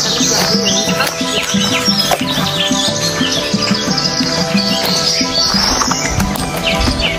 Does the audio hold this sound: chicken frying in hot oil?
no